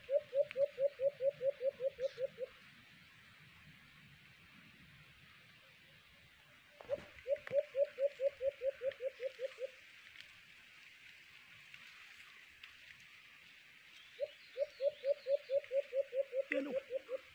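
A tame katian bird repeats a rapid series of loud, pulsing, rolling calls in three bursts, separated by quieter stretches of faint background noise.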